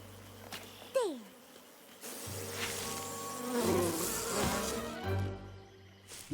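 Cartoon bees buzzing around a hive beside bayou water, a steady insect drone running under the scene with brief character voices and effects at the start.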